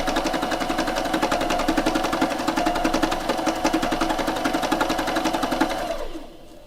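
Fast, even rattling hammer of a needle felting machine running near full speed on fabric, a loud mechanical chatter that holds steady and then spins down to a stop at the end.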